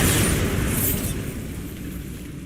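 Bombarda spell blast from the Hogwarts Legacy video game: a single loud explosion with a broad rumbling burst at the start, then a long decaying roar that fades without dying out.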